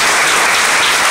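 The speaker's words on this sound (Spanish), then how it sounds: "vuelvo, por favor, a dar un fuerte aplauso para todos ellos" An audience at a charity gala against cancer in Cacabelos breaks into loud, dense applause, a short, close burst of many hands clapping together.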